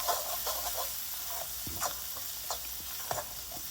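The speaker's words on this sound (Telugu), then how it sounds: "ఇప్పుడు దాన్ని నేను సన్నగా కట్ చేసుకొని దీంట్లో వేస్తున్నాను అన్నమాట. వేసేసి బాగా కలుపుకోవాలి" Fenugreek leaves are stirred around a frying pan, with a steady soft sizzle and hiss under repeated scraping, clinking strokes of a spoon against the pan.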